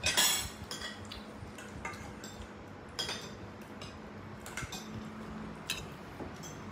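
Cutlery clinks and taps against plates while someone eats fried rice, with light irregular metallic ticks spread across a quiet room.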